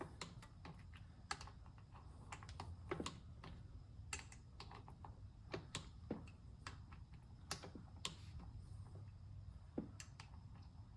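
Sharp clicks from a torque wrench or ratchet as the clutch cover bolts are tightened on a 2004 Honda VTX 1800C, a dozen or so quick clicks scattered irregularly over a low background hum, fairly close.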